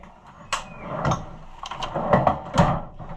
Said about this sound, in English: Maybe if I open the wrong drawer 5 more times